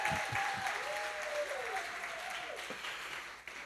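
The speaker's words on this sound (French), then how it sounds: "on va l'applaudir pendant qu'elle vient devant parce qu'elle est courageuse" A church congregation at a Christmas Eve service applauds, with steady, moderately distant clapping throughout, a few voices and low sounds mixed in beneath it.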